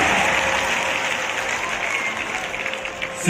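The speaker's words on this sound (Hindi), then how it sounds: "आइए जोरदार तालियों से हम अपने किसान भाई बहनों की खुशी का हिस्सा हो जाए।" A large crowd at a public gathering in Singrauli, attended by Home Minister Rajnath Singh, gives loud, sustained applause, a dense continuous roar of clapping throughout.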